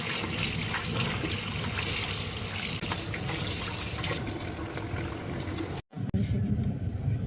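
Fresh pumpkin greens from a rooftop garden are washed by hand in water, giving continuous splashing and trickling close by, with a brief pause near the end before the sloshing resumes.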